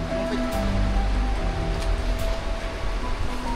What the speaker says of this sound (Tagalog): Ayan, lumakas na yung ulan.